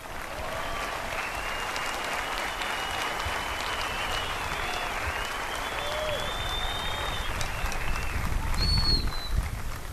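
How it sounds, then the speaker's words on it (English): A large audience applauds at a United States Air Force basic training swearing-in ceremony. The clapping is dense and sustained, with scattered whoops and cheers rising above it, and it continues for the whole stretch. "You can applaud."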